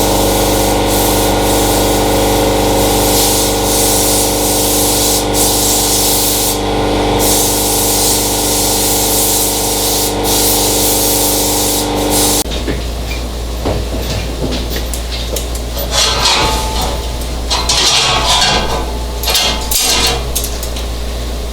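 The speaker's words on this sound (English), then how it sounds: "Now I'm just going to blast all the dust out of the shop" Compressed air from a high-capacity shop air compressor blasts dust out of a welding shop, a loud, continuous hiss that shifts in tone partway through as the air stream moves.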